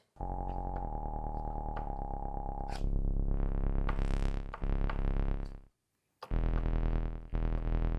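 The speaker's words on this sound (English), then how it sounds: "I think I want to double up that bass as well." A thick, distorted synthesizer bass plays sustained notes in a stop-start pattern, layered and buzzy, with a brief gap of silence near the end.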